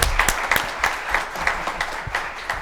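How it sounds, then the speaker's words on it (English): An audience bursts into steady, dense applause at a mayor's community night-out event, many hands clapping loudly and close with no voices on top. "please give them a big round of applause"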